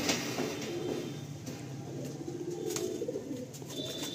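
Baby Madrasi pigeons, home-bred and all of one body pattern, coo softly and steadily in a loft, with continuous low murmuring and faint rustling and no voices.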